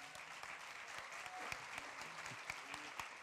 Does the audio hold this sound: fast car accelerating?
no